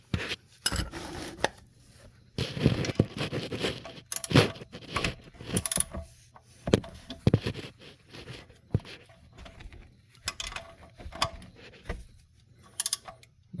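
Metal wrench or socket working on the oil drain plug of a 2010 Audi A4 2.0T, giving a series of close clicks, taps and clinks spread irregularly through a quiet stretch with no talking.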